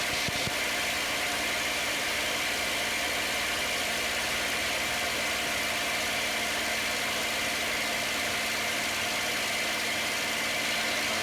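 A P-51 Mustang's piston engine drones in flight, a loud continuous rumble with steady vibration from inside the cockpit that stays even for the whole stretch.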